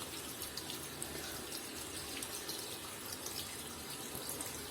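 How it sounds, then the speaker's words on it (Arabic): Water pours steadily into the tub of a Toshiba 12 kg semi-automatic washing machine with a water pump, a continuous splashing rush at close range with no voices. "بقى تزود الميه"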